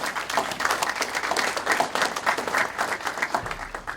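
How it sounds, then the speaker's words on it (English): Audience applause fills a Midland County Sports Hall of Fame ceremony hall, a steady, dense wash of many hands clapping that holds for about four seconds before thinning slightly at the end. "I think she deserves a round of applause"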